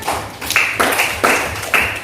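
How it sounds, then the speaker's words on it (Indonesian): A few sharp claps ring out in quick bursts, spaced unevenly, fairly close and loud with no voices. "Tepuk tangan."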